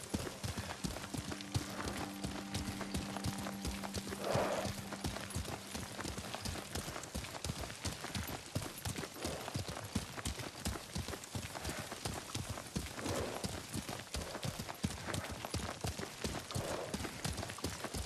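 A horse galloping in the video game Ghost of Tsushima, a continuous rapid clip-clop of hooves lasting the whole stretch at steady volume, with faint background tones and brief vocal bits.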